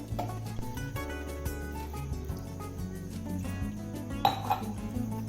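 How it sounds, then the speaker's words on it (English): A glass of water going into a pot with ginger, lemon, turmeric, pepper, jaggery and cinnamon sticks: close clinks and clatter of a metal pot and utensils with light splashing, then a brighter clink near the end. "I'll add 1 glass of water."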